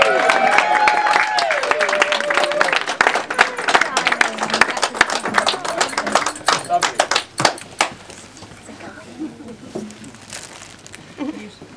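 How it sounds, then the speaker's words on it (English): Wedding guests clap in a lively burst with cheering voices and talk over it, loud and close at first, then thinning to scattered claps and quieter chatter. "And yeah, another round of applause"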